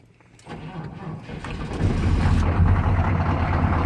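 A 6.2L GM Detroit diesel in an old contractor truck starting from cold: a brief crank and then the engine catches, rising into a loud, rough, steady diesel idle close by with no talking over it.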